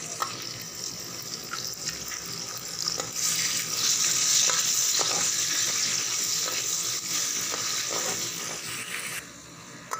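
Chopped tomato, ginger and green chili fry in a pan for egg palao, giving a steady close sizzle with occasional stirring scrapes and clicks, loud and continuous, easing off near the end.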